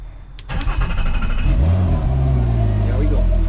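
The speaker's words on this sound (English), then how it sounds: "then we start the engine" A Mercury 225 HP outboard engine cranks and catches after a sharp starter click, then settles into a loud, steady running drone close by, with a voice briefly heard over it.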